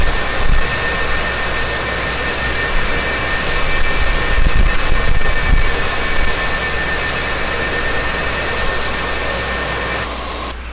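A steady, loud jet engine roar of an F-4 Phantom II in a flight simulator game drones on for the whole stretch, broadband and unbroken, with a faint rumble swelling briefly midway.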